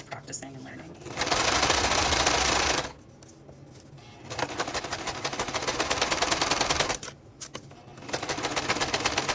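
A sewing machine hems a cropped oversized T-shirt in three close bursts of rapid, rattling stitching separated by short pauses, with a voice talking at times.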